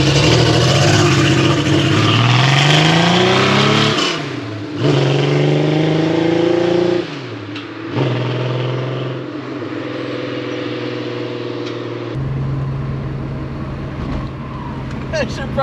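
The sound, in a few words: Porsche 911 car engine revving while driving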